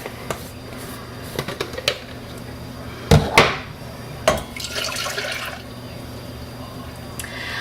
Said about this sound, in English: now I am going to add the contents of my blender.